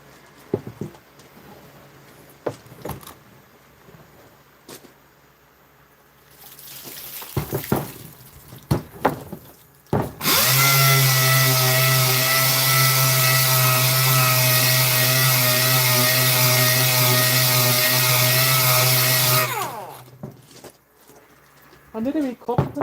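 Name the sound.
2-inch sander on stainless steel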